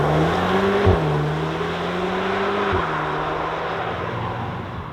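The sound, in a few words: 2025 Audi S3 hot hatch driving out on road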